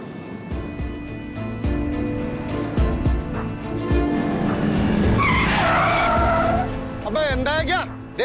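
A car braking suddenly, tires squealing in a loud sustained skid under ongoing engine noise, close and harsh, with voices shouting over the end of the skid.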